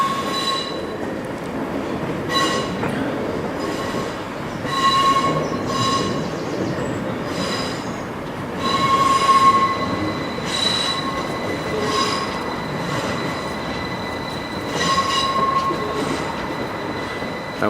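A Bradford–Skipton passenger train departs a station, rolling slowly past, wheels squealing in repeated high-pitched bursts over a steady rumbling clatter of rail noise.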